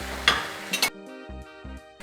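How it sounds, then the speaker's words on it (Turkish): A spoon scrapes and clinks in a pan of Turkish lung soup, giving a couple of sharp stirring scrapes followed by a soft, repeating low bubbling pulse, close and alone. "Karıştırıyorum."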